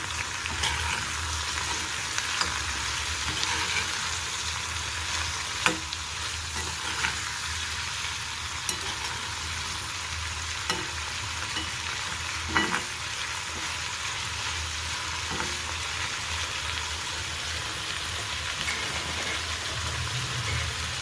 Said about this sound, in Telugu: కొంచెం సాల్ట్, కాస్త పసుపు వేసుకుందాం. నేను ఒకసారి తిప్పుకుందాం.